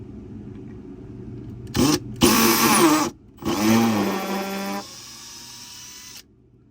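A power drill driving screws into an Airstream trailer cabinet drawer whirs in two loud bursts, the second longer with a steady pitched drone, surrounded by quiet background hum.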